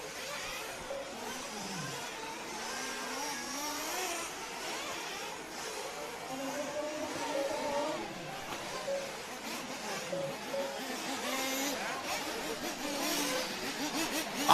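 RC buggies race around the track at a seeding round, their high-pitched electric motors whining and rising and falling as they pass, under continuous race commentary.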